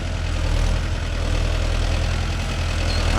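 A Mahindra Yuvo Tech Plus 585 4WD tractor engine labors under load while pulling a five-tine cultivator through soil, a steady, loud, continuous low diesel drone with a regular throb and no pauses.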